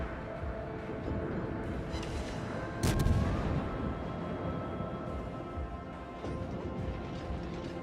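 Warship guns shelling an island in World of Warships, heard as a sustained rumbling barrage with one sharper boom partway through, under steady game noise without talking.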